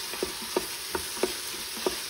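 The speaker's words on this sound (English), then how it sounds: "So next we're going to take our onions and our red peppers and we're gonna put that in there. We're gonna get those sauteed." Onions and red peppers sauté in an Instant Pot, a soft steady sizzle broken by about five sharp, evenly spaced spoon scrapes and taps as the vegetables are stirred.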